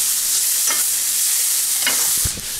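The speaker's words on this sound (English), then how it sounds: "we're gonna add the onions and the garlic that we coarsely chopped up" Coarsely chopped onions and garlic fry in rendered bacon, a loud close hiss that runs steadily, with a couple of quick stirs and a clunk near the end, no talking.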